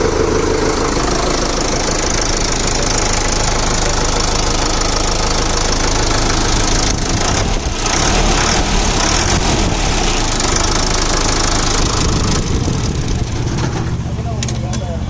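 Sonalika Tiger DI 55 tractor with a 90 HP engine idling, a loud continuous knocking diesel rumble close by that holds steady for the whole stretch, with slight rises in roughness partway through.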